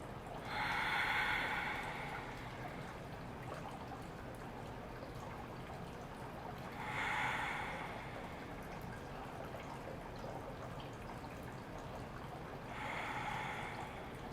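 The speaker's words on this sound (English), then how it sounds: "Otherwise, we'll take 3 more breaths." Three slow, deep breaths during yoga relaxation, each a soft, airy rush of about two seconds, spaced roughly six seconds apart over a quiet, steady background.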